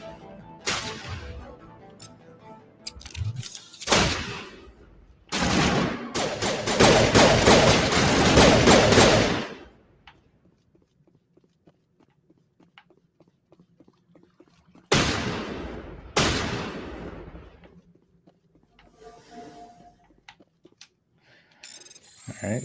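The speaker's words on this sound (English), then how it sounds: "so much for not getting into a firefight" Bursts of rapid gunfire from a firefight in the Mass Effect Legendary Edition video game, with loud sustained volleys separated by quieter stretches of game ambience and no talking.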